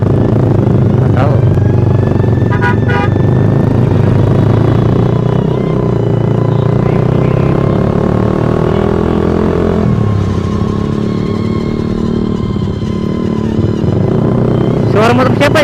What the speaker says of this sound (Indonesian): Suara motor siapa ya?